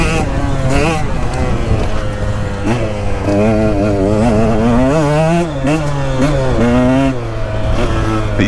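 A 2022 KTM 125XC dirt bike engine drones and revs up and down while being ridden, a close, buzzing note that rises and falls in steady waves.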